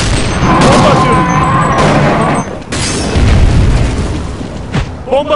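Counter-Strike 1.6 zombie escape match with a thrown bomb: heavy booming blasts and rumbling bursts roll through dense game noise, loud and close, with a short lull midway and a fresh surge after.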